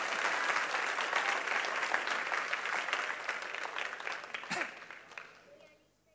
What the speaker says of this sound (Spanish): Dele un aplauso a Dios fuerte.